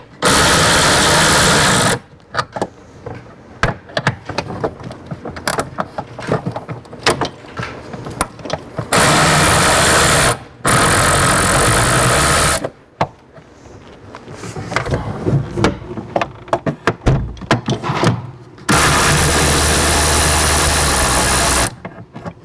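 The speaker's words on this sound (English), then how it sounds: "I'm using a 2-inch extension with the 8mm socket." Ratchet with a 2-inch extension and 8mm deep socket working on a tail light nut of a 1998 Subaru Impreza, giving loud bursts of rapid clicking and grinding separated by quieter handling noises.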